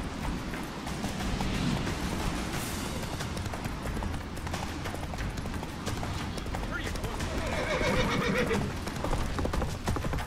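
Roach, a horse in The Witcher 3, gallops with steady hoofbeats and whinnies amid loud, busy game action, and speech-like voices sound at moments.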